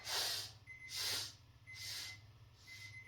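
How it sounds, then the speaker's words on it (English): Deep breaths during a yoga session: four long, airy breath sounds in a slow, even rhythm, close and hissy, over a low steady hum, with no talking. "Breathing in. Inhale."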